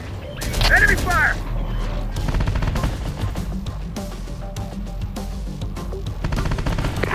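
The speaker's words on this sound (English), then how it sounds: "Got enemy fire on our position!" Enemy gunfire rattles through a Terminator: Dark Fate Defiance battle, dense bursts and scattered shots running the whole time at close, loud range, with sharp cracks standing out near the start.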